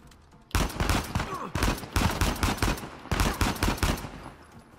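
Sniper rifle fire in the Uncharted 4 video game: loud, sharp shots in several repeated bursts after a quiet start, close and dominant with little talk.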